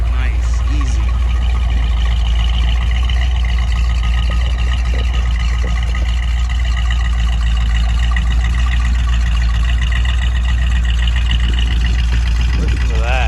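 A restored 1963 Corvette split-window coupe with a fuel-injected Fuelie engine idles steadily, its low rumble continuous and fairly close throughout, with some voices over it.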